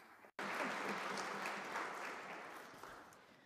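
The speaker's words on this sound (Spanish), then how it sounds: "Y ahora vamos a darle un aplauso a la señora Michelle Bachelet" A conference audience breaks into applause after a brief pause, a dense, even wash of clapping that holds steady and slowly tapers over a few seconds.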